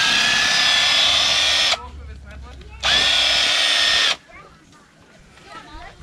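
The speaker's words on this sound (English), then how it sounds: "Called a rattle gun." Rattle gun driving landscape screw tent pegs at a campground, two loud close bursts of high whirring and hammering, each about a second and a half long, separated by quieter gaps with faint voices.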